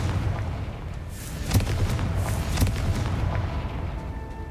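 Confringo explosion spell blasts in Hogwarts Legacy, with two booming bursts about a second apart over a steady low rumble.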